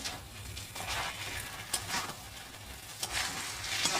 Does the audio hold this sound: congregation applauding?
no